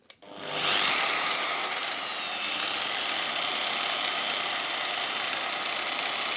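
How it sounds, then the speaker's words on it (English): A Parkside burnishing machine, an angle-grinder-style tool fitted with a sanding brush head, switches on with a click and spins up into a loud, steady high-pitched whine that holds level to the end. "Essentially, this tool is an angle grinder with a special head, special attachment for it."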